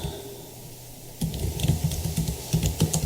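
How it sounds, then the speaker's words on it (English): Rapid clattering keystrokes on a computer keyboard begin after about a second of quiet room tone, continuing in close, uneven bursts while web design code is entered. "I'm typing what I'm saying."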